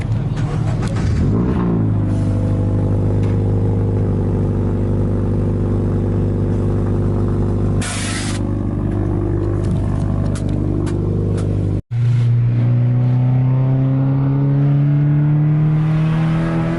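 Cars at a Toys for Tots car show rev and roll out in a loud, steady engine drone. Near the end an engine climbs in pitch as it accelerates away, with no clear speech above the noise.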